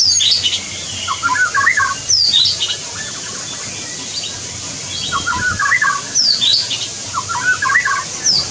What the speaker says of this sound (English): The white-rumped shama's chirping is crystal clear, shrill, and full of variety.